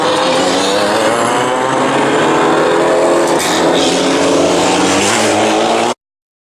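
Formula race cars idling and revving together on the grid at AutoClub Speedway, a loud, dense layered engine drone with shifting harmonic pitches, steady throughout before cutting off abruptly near the end.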